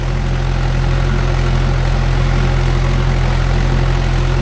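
A Mahindra 575 DI tractor fitted with cage wheels runs in a muddy rice field, and its diesel engine holds a loud, steady low rumble close by.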